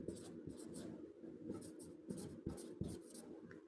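Chalk or marker strokes on a classroom board come in short, quiet scratchy bursts with small pauses between them, close by and with no one speaking.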